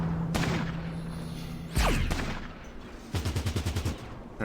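Light machine gun fire in Fallout Tactics: a few scattered shots and a heavy impact, then a fast rattling burst of roughly ten rounds, loud and close with no talking.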